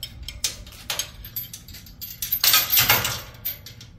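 Metal safety chain on a jon boat trailer rattles and clinks as it is handled, with scattered close clanks and a louder jangling burst near the middle, no voices.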